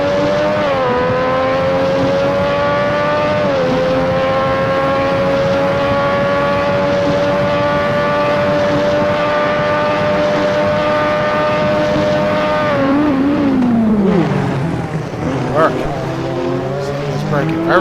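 A Lotus 98T racing car engine at Hockenheim screams loud and near at high, steady revs, then drops sharply as it brakes and downshifts, while a commentator talks over it.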